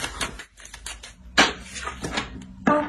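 Tarot cards laid down one after another on a table during a reading, giving soft papery slaps and light taps at irregular intervals, close and fairly clear.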